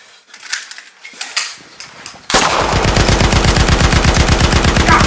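Sustained automatic gunfire, loud and close, erupting suddenly after a stretch of quieter scattered noise and continuing as a rapid unbroken rattle of shots to the end.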